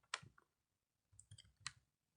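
Several quiet clicks of keys being typed on a keyboard, a short cluster at the start and another after a pause, faint and close.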